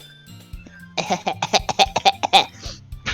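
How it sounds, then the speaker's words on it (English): A close, loud burst of harsh coughing, a rapid series of hacking coughs following a brief throat sound, with no talking. "What, you got a smoker's cough?"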